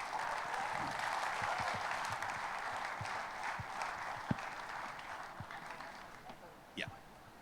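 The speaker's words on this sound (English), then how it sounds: "Can we have a big round of applause for him" Audience applause for a company co-founder called up on stage at a celebrity event, a dense wash of clapping that holds steady for several seconds, then thins and fades out, with a few scattered claps near the end.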